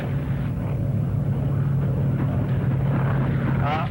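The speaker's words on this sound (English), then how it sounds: "A moment ago, we heard the engines of heavy aircraft" Heavy WWII Stirling bombers fly over low, their engines making a continuous, loud, deep propeller drone that holds steady throughout.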